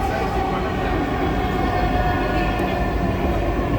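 A metro train on an elevated line rumbles steadily nearby, a loud, constant low roar of wheels and motor with no breaks or horn.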